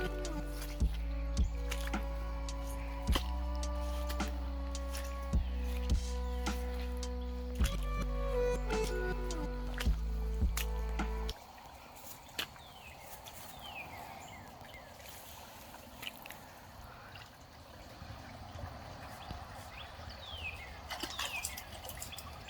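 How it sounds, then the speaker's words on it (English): Rushing water of a creek swollen and overflowing after a hailstorm, a steady broadband wash heard close by; a rhythmic tonal hum with sharp clicks dominates the first half before the flowing water stands alone. "You can hear the water."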